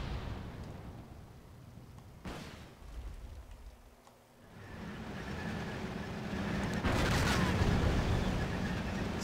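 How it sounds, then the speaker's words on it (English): Artillery duel in Wargame: Airland Battle, a rumbling battlefield with distant booming gunfire and a few sharp blasts, building to a louder roar near the end. "their pesky artillery is in a artillery duel with me"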